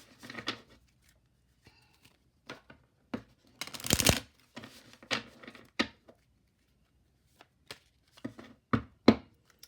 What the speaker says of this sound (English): I'm just gonna pull some insight cards and see what it has to say